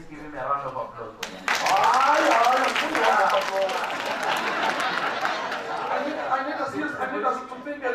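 Audience applause breaks out at a social cohesion dialogue event, a dense, sustained wash of clapping with crowd chatter that fades slightly toward the end, following a brief bit of talk at the start.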